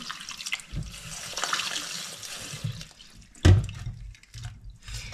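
Yellow chanterelle mushrooms washed under running tap water, a continuous close splashing rush with a louder burst of water hitting the sink midway before it eases off.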